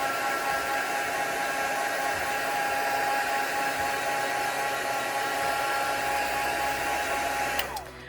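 A heat tool blows a steady, loud, close whirring rush of hot air to dry ink on a card background, cutting off abruptly at the end.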